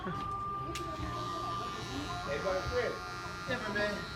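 Electric clippers buzz while shaving the back of a customer's neck in a barbershop, a steady faint hum under nearby conversation.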